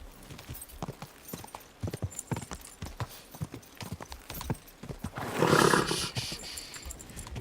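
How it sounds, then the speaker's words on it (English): Horse hooves clip-clop in a steady trotting rhythm in the medieval video game Kingdom Come, followed by a loud, close neigh midway, then more hoofbeats. "Easy, good horse."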